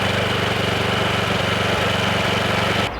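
A small tiller engine running at a steady idle, a loud close putter with an even low pulsing rhythm that cuts off at the end.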